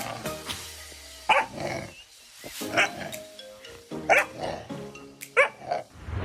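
A puppy yelps and barks in short, sharp bursts, several close calls spaced irregularly over a background of voices and scattered noise.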